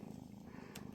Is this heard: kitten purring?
yes